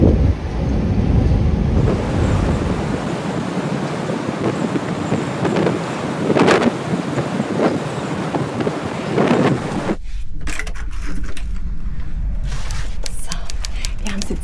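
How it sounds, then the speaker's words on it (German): Strong wind gusting across the open deck of a ferry at sea, a loud continuous roaring buffet against the microphone with a few sharper gusts, followed by a quieter stretch of irregular rattling and knocking. "Draußen fegt der Wind schon jetzt heftig über das Deck"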